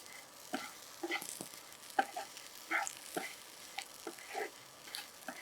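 Amla, Indian gooseberry, sautéed in a pan for thuvayal chutney gives a faint, soft sizzle, with scattered light ticks and scrapes of stirring at irregular intervals, quiet and close.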